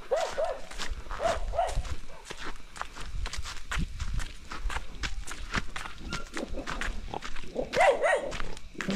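Dogs bark in short, scattered bursts at night, mixed with shuffling footsteps and movement close by, the barks fairly loud and spread across the stretch.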